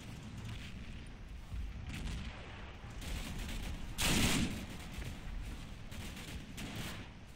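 Dense, continuous gunfire and rumbling blasts fill the clip in the video game Combat Mission Red Thunder, with one louder explosion bursting out near the middle; busy and steady, no voices.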